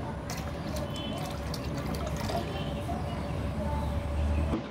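Liquid being poured and mixed into a 10-litre bucket holding about 8 litres of water, a steady close splashing and trickling that runs throughout, with someone talking over it.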